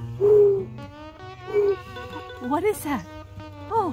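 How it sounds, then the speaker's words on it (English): A mourning dove gives soft, low hooting coos on a walk through Wisconsin's Horicon Marsh, with two or three drawn-out calls mixed among people talking nearby. "I think I heard a mourning dove."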